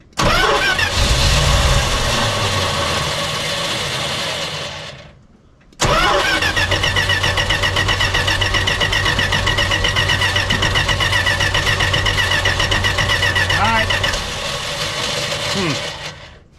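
A 1977 Dodge Power Wagon W150 engine, parked for 20 years, cranks and catches, runs loud and rough, dies, then fires again and keeps running steadily for several seconds before fading down.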